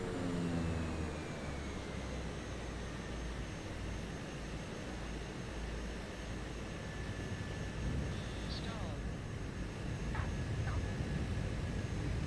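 An airplane engine drones steadily on landing approach with flaps fully extended in the Microsoft Flight Simulator game, a loud continuous roar with faint whining tones throughout.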